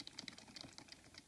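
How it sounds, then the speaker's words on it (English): Typing on a GX Gaming Manticore semi-mechanical keyboard, a quick run of light, uneven clicky keystrokes, close and fairly quiet, with no voice. "So the keyboard itself is semi-mechanical, so it's like a mixture."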